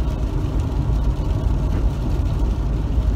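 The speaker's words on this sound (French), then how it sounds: "Je sais pas si vous m'entendez parce que le moulin il fait un peu de bruit." Citroën Evasion 2.0 HDi diesel with a power-loss fault, driven in fourth gear near 100 km/h: a loud, steady low engine drone and road rumble that fills the cabin, with no speech.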